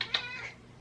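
A house cat gives one clear meow up close, a bright tonal call that rises and fades over under a second in a quiet indoor room.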